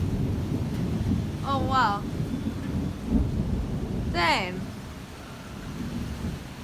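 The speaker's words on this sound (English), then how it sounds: "That thunder is crazy." Thunder rumbles through a rainstorm, with loud rolling booms over steady rain; a person exclaims briefly over the storm.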